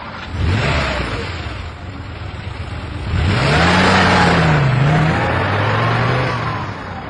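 A car engine starts up and revs, then pulls away with rising and falling gear-change whines, staged as a drive-off effect in a radio drama, fairly close and clear with no talk over it.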